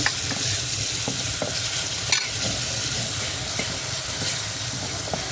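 Blended onion and garlic paste fries in oil over a clay stove, giving a constant close sizzle with scattered crackles and a few scraping stirs, no voices.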